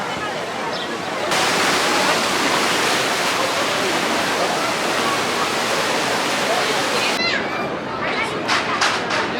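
Rushing water of the Grand Canyon River Rapids raft ride at PortAventura, a loud continuous roar of churning spray close by, with faint voices and splashing near the end.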